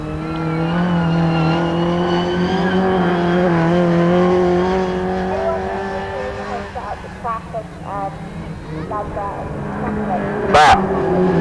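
Autograss racing cars on a dirt track at St Neots, several engines droning and revving close by in a continuous layered roar, with a brief sharp burst near the end.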